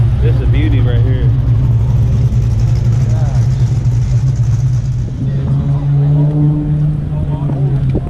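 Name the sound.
Chevelle muscle car engine on the track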